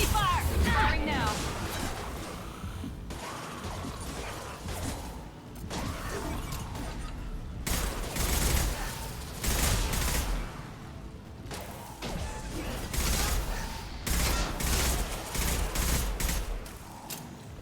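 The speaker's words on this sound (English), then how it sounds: "Taking heavy fire. Firing now." Heavy gunfire in the Mass Effect 2 game: repeated bursts of automatic shots and impacts in waves, loud and close, with a voice speaking briefly between volleys.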